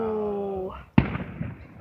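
A whistling firework rocket climbs, then bursts with a loud sharp bang followed by crackling decay, heard outdoors at a fireworks display.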